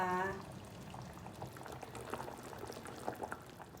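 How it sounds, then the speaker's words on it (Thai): Southern Thai sour fish curry with snakehead and striped catfish being ladled into a bowl: a short pouring splash at the start, then soft liquid sloshing and bubbling, with faint background noise and possible quiet voices. "เสร็จแล้วเราก็มาตักใส่ถ้วยกันเลยนะจ๊ะนี่เลย"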